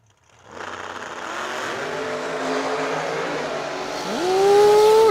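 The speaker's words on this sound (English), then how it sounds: "the Freedom Machine in the right lane motors on down the racetrack there" A drag race car at a Yellow Bullet Nationals event accelerates hard down the racetrack with a loud, sustained engine roar that builds steadily and jumps in pitch near the end as it revs at the top end, close and without talk.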